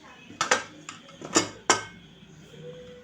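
A pressure cooker lid is handled after the steam has been released, giving several sharp metallic clinks and clatters in quick succession against a quiet kitchen background.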